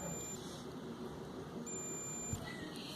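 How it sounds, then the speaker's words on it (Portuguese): A multimeter continuity test beep, on diode range while testing a fan coil, sounds steady and high-pitched continuously through most of the moment, fairly faint over a low background hiss. "já na escala de diodo, a escala do BIP, esse teste é de continuidade"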